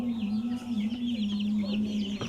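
A sick chicken clucks repeatedly at close range over a steady low hum, with a sharper call near the end.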